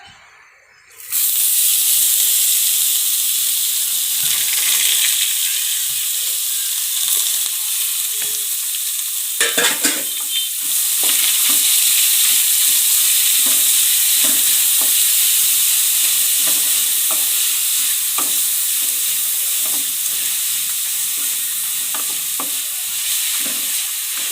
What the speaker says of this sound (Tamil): நல்லா எண்ணெயில் வதக்கி விட்டுட்டே இருங்க அந்த முள்ளகி நல்லா எண்ணெயிலே வதங்கட்டும்